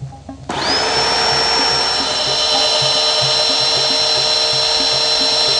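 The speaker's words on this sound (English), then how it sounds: "This drilling will give us information about the condition of the pole below grade." A steady, loud high-pitched drill whine starts abruptly and grinds on continuously as it bores at 45 degrees into a wooden utility pole below grade, with a low rhythmic knocking underneath.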